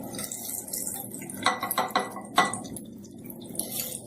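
A spoon clinks and scrapes lightly against a bowl while yogurt chutney with red chili is gently stirred, a few soft taps standing out over a low background hum.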